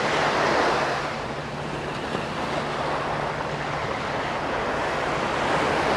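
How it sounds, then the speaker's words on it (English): Steady roar of ocean surf washing onto Jomtien beach in daytime, with continuous broadband wash and light wind noise and no distinct breaks. "That wave nearly got me. That one did. Yeah, it's coming in that tide now."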